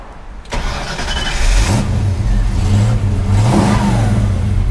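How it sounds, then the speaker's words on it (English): A 1965 Ford Mustang Fastback engine cranks and catches, then revs up and down several times in loud, close bursts before settling into a steady idle. "Let me start it up for you and we'll take it for a spin."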